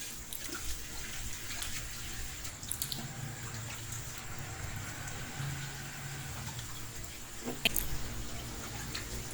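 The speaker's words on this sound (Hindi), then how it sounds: "इसको मैं 3-4 पानी में धो लूँगी, साफ़ कर लूँगी" Dill greens (soya saag) being rinsed in a basin of water in a home kitchen, soft continuous sloshing and trickling with a few brief splashes and clinks, quiet and close, no talking.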